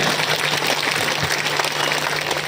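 Loud, dense applause from an audience at a Bengali political rally, steady clapping throughout with no break, the hall's low hum underneath.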